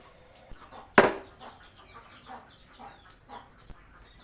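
Chickens cluck in short, quiet, repeated bursts close by while someone cuts fish, and one sharp chopping hit stands out near the start.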